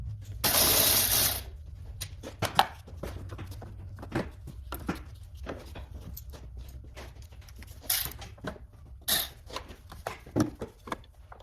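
Bolts and clamps being removed from the air duct of a Chrysler 200 with the 3.6L engine: a loud burst of ratcheting at the start, then sparse metallic clicks, knocks and scrapes close by.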